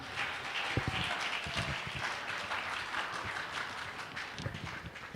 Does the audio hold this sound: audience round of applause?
yes